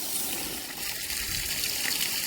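Water splashes and sprays steadily while a tractor is washed in a village yard. A continuous hissing gush runs close to the microphone and stops abruptly at the end.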